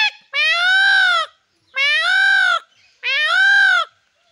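A man mimics a peacock's call, as heard in films: three loud, drawn-out nasal wails with a rising-then-falling pitch, evenly spaced and close, with no other voices.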